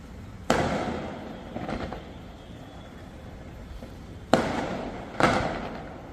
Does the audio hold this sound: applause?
no